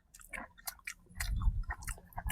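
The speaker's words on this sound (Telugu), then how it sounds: "పన్నీర్ నోట్లు వేసుకొని తింటే కరిగిపోతుంది." Close, wet chewing of soft paneer eaten outdoors, with irregular mouth clicks and smacks, the chewing growing louder and denser in the second half; no talking.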